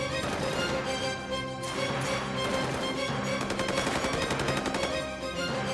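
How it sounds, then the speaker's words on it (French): Gunfire in a dramatic TV scene rattles in rapid, repeated bursts, many shots crowding together against a dense, continuous background. "Les coups de feu viennent de là."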